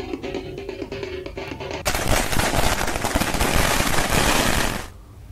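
Firecrackers burst by villagers at a celebration: a dense, loud volley of rapid cracks and pops crackles continuously for about three seconds, preceded by quieter rattling bangs, then cuts off abruptly.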